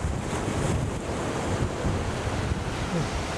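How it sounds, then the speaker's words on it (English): Rough, high sea off Mallorca churns and breaks continuously under gusting wind that buffets the microphone, a dense steady roar of surf with no distinct individual waves. "the sea is a lot higher and wilder today"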